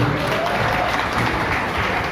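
Audience applause at a fashion show, a steady dense wash of clapping from a crowd that holds at an even level throughout, with no voice over it.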